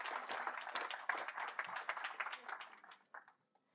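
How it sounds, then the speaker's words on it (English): Audience at a First Nations carbon summit applauds panelist Sheldon Wuttunee: brisk clapping from a conference crowd, fairly close and lively, thinning out and stopping with a few last claps near the end. "Let's give him a round of applause, please."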